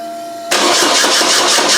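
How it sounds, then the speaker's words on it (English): After a quiet electrical hum, a car engine abruptly cranks over, giving a loud, close, pulsing churn that continues steadily to the end. "Let's go ahead and crank it over, and we'll see what happens."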